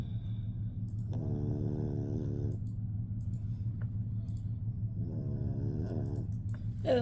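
A dog snores while asleep, close by, with two drawn-out rasping snore breaths over a constant low rumble and a quiet pause between them.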